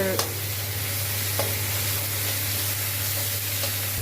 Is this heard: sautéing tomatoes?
yes